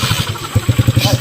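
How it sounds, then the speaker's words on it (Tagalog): A habal-habal motorcycle taxi, reportedly broken down, idles nearby with a steady, rapid thumping pulse, loud and close, while people talk over it. "Ayun na yung motor."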